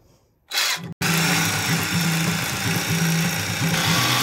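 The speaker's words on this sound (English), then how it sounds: "Never used a jigsaw before, I don't think." A power jigsaw on a narrowboat starts with a short burst, then cuts continuously with a loud, rasping buzz that pulses slightly as the blade works.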